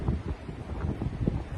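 Strong wind gusting outdoors on a snowy Canadian street after a snowstorm, a steady broadband roar and buffeting against the microphone, continuous and fairly loud throughout with no talking.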